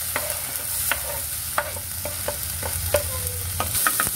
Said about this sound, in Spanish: enseguida agregamos la cebolla.